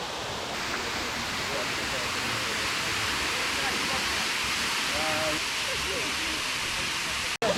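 A tall waterfall in Langkawi roars as a broad, steady rush of falling water, loud and unbroken from start to finish apart from a brief dropout near the end.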